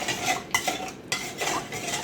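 A spoon stirring yeast, milk and sugar together in a cup, clinking and scraping against the sides in quick, close, steady strokes with a few sharper taps, no voices.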